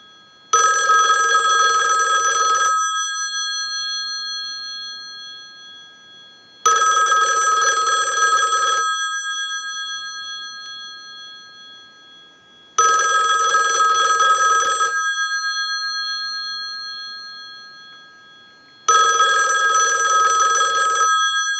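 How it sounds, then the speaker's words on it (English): A rotary-dial desk telephone's bell rings loudly in four long bursts, each about two seconds, separated by steady pauses of silence. "send a ring cycle like you were getting a call"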